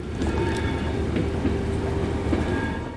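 Train ride in the video game Blair Witch, a loud continuous rumble of rolling rail cars with faint rhythmic clatter, steady and close throughout.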